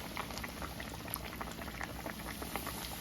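Cornmeal-coated catfish frying in hot oil in a cast iron skillet, a steady dense sizzle with scattered pops and crackles, close and continuous without talk.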